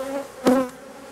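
Honeybees buzz around an open hive during an inspection, a close, steady droning hum that swells briefly louder midway through the short moment.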